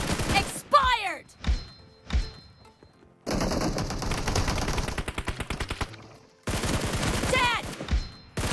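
Gunfire in a team shooter video game played on an Asus ROG Phone 5: single shots and ricochets, then long rapid automatic bursts, with game voice callouts heard between them.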